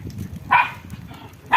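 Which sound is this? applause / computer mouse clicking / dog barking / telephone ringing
dog barking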